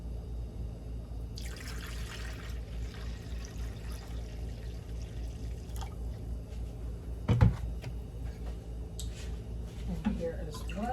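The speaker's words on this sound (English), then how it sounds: "I need to add an additional 2 cups of white vinegar." White vinegar poured into water for a pickling brine for canned hot peppers, a soft intermittent pour and trickle over a low steady hum, with a clunk partway through and talking alongside.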